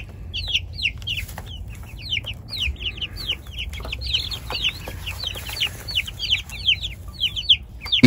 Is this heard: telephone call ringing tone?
no